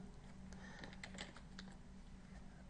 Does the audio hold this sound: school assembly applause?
no